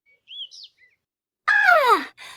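A small yellow bird in a children's story chirps in short, bright high tweets, followed by a louder, longer descending chirruping call, with brief pauses of silence between.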